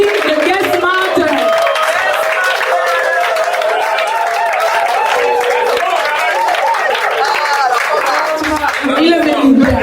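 An audience applauds cybersecurity and ethical hacking students at a presentation, a loud, continuous wash of clapping mixed with cheering and crowd voices throughout.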